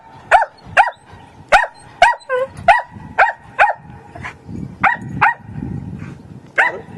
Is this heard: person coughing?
no